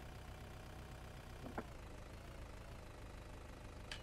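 A tractor engine in a farming game idles in a steady, even drone that runs throughout, with a couple of faint clicks on top and no talking.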